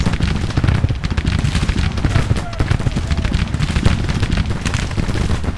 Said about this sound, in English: Perfectly happy just to let the artillery just shoot their volleys.